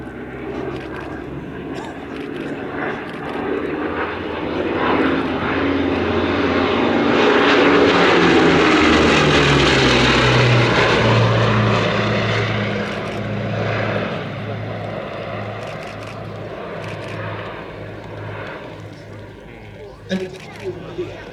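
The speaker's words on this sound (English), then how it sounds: "This was the result, the Blenheim, and it made its first flight in June of 1936." Bristol Blenheim light bomber at a flying display, its propeller engines droning as it approaches, swelling to a loud roar overhead and then fading away, while a commentator talks over the public address throughout.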